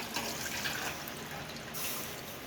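Water running steadily from a tap into a pot, to be heated for kneading rice flour dough in a kitchen, a soft continuous hiss and splash heard alone at low level, with a slight shift near the end.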